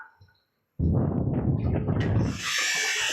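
A polishing machine works a metal furniture accessory in a factory, starting abruptly with a loud, dense grinding whir that shifts into a brighter, hissing buff.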